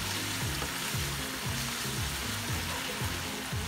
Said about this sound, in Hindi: लहसुन अदरक का पेस्ट डालेंगे 2 टेबलस्पून डाल के, इसको हल्का सा फ्राई करेंगे